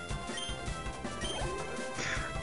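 Vulcan Smash attack effect from the Pokémon Vega game: a series of heavy crashing impacts with metallic ringing, loud and close, stacked over the game's sound.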